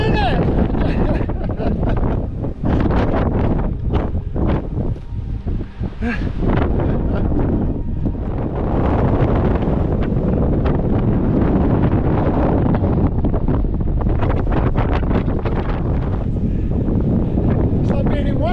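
Strong wind on Santorini buffets the microphone in loud, gusty rumbles throughout, with a voice briefly audible beneath the roar.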